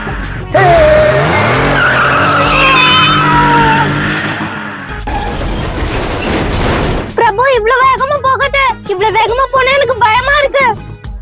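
Car driving fast with rising engine whine and squealing, skidding tires, loud and close, with people talking and shouting over it.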